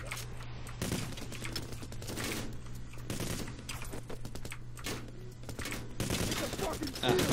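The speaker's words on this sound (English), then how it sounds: "I'm being shot." Rapid gunfire from a police shootout in the heist video game PayDay, bursts of shots rattling steadily throughout over a constant low game hum, with occasional louder volleys.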